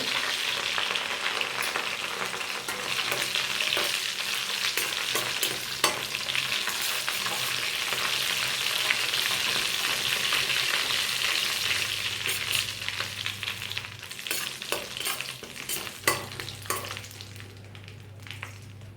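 Ground fennel and vadagam crackle and fry in hot oil for a fish curry, a dense, continuous close sizzle with faint stirring scrapes throughout, no speech.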